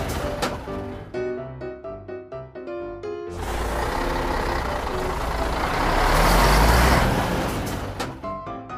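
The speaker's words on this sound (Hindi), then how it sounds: "इन्फॉर्मेशन आते ही एसआई चेक पोस्ट में रेत के ट्रक को रोकता है।" A mini truck loaded with sand stops at a police check post. The engine rumbles loudly, with rhythmic mechanical clatter at first, then a broad rushing hiss as it halts. No one speaks.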